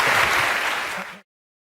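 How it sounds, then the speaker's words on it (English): Audience applause at a stand-up comedy show, a dense burst of clapping from a live crowd that holds steady and cuts off abruptly after just over a second. "Al Murray, give him a round of applause"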